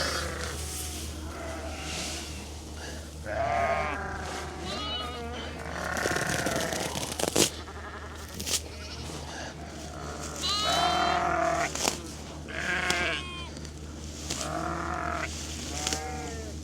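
Sheep bleat repeatedly while eating Sudan hay on a farm, several wavering calls coming close together over a steady low hum, with some rustling between the calls.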